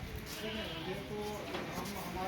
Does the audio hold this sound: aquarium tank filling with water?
no